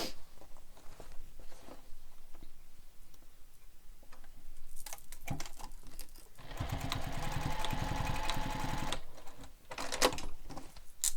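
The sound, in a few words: sewing machine basting bag pieces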